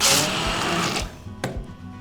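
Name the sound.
hand blender grinding soaked mung beans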